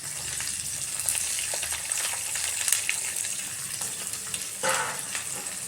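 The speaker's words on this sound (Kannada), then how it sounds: "ಇದು ಸ್ವಲ್ಪ ಫ್ರೈ ಆಗಲಿ." Curry leaves, shallot and capsicum sizzle steadily in hot oil in a pan for bisi bele bath, a loud, dense frying hiss with occasional stirring scrapes and no talk.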